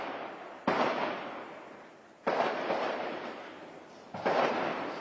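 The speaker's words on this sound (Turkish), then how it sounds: "Halen daha geliyor o patlama sesleri" Three heavy ammunition depot explosions in Afrin boom at intervals, each followed by a long rumbling roar that slowly fades, distant and echoing.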